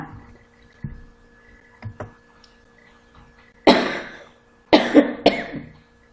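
A few harsh coughs burst out close up, one followed quickly by two more, after quieter throat sounds and light clicks.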